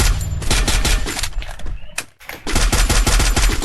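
M60 machine gun fire in the video game Free Fire: rapid, loud bursts of automatic gunfire in quick succession, with a brief pause before the firing resumes.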